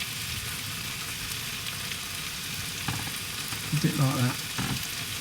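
Tomato frito sizzles in a frying pan with a steady, close hiss while it is stirred, and a voice speaks briefly near the end.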